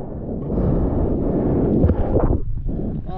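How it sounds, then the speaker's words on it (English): Strong wind while surfing big barrels at Pipeline, a heavy roaring buffet on the microphone, loud and close, with water rushing and churning underneath. "That wind was so gnarly, but so perfect."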